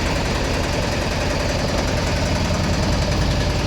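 A steady auto-rickshaw engine idles close by, a continuous low rumbling chug with even vibration and no pauses, with no speech over it.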